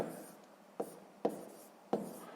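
Pen or chalk writing out a sixth-grade fraction math solution, a soft continuous scratching broken by three sharp taps, close and fairly quiet, with no voice.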